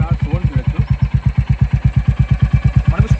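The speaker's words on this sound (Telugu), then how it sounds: "సో ఒకసారి బైక్ అయితే ఆన్ చేస్తున్నాను." A Royal Enfield Hunter 350 fitted with a Red Rooster aftermarket exhaust idles close by, a loud, steady thumping beat of evenly spaced pulses, with a voice briefly heard over it.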